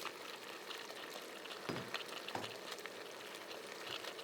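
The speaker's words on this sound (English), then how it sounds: "we're going to put the bok choy back in the pan with the steak." Bok choy and steak simmer in a pan with a thickened cornstarch sauce and green onion, giving a steady soft sizzle with a couple of brief stirring scrapes, fairly faint and alone.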